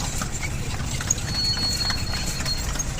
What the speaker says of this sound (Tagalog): ano naman yung kabayo